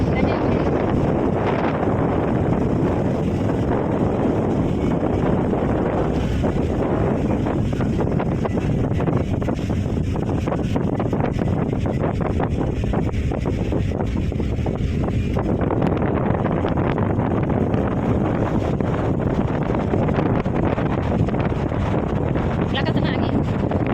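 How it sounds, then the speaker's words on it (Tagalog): Strong wind roars steadily over the microphone aboard a fishing boat at sea off Negros, a loud continuous rushing blast that buries the faint background for the whole stretch. "lakas ng hangin."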